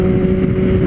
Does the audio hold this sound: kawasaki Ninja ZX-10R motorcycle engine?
yes